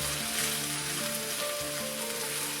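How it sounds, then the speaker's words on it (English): Onion and garlic fry in a big pot, a steady close sizzle with a rain-like crackle and occasional stirring shuffles, while a tonal hum runs beneath. "So mix it in. Mixed in with the onion and the garlic."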